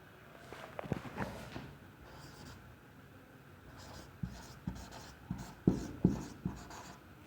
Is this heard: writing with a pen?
yes